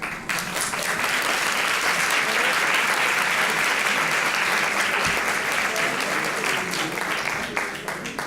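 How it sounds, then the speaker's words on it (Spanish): Audience applause at a Spanish-language workshop on fairy tales, following a reading. Dense, sustained clapping swells quickly and holds for several seconds before thinning out, with faint voices underneath. "Se lo damos el aplauso a Patsy Irurzun"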